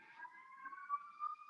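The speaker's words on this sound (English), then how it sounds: "Some sirens just went by." Emergency vehicle sirens sound faintly outside, a steady wailing tone that slowly rises in pitch and carries on alone without talk.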